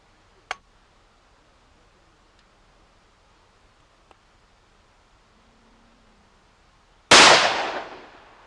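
A 20-gauge shotgun with a half-choke barrel fires once at a target outdoors, a single loud sharp blast with a short decaying tail after a long quiet stretch broken by faint clicks.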